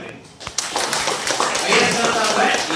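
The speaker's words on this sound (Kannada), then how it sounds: "ಒಂದು ಜೋರಾಗಿ ಚಪ್ಪಾಳೆ" A live audience bursts into a loud, sustained round of applause at a Kannada talk on magnetic energy, the dense clapping swelling after a brief pause and holding steady to the end.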